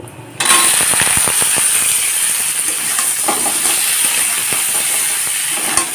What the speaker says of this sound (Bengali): গ্যাসটাকে এখন লো ফ্লেমে রেখেই কাঁচকলাগুলোকে ভাজবো